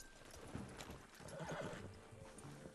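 A horse in the video game Red Dead Redemption 2 whinnies and neighs while its hooves clip-clop along, all fairly close and steady across the short stretch, with no talking.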